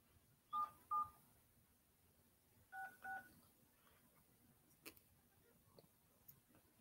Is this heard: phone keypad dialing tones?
yes